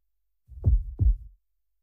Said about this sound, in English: like John Goodman's heartbeat